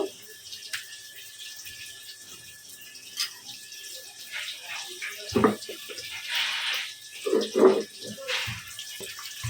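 Water left over from grinding spices, green chillies and tomato is poured into a cooking pan for a fish curry, making faint trickling and splashing that swells toward the end, with soft kitchen clatter.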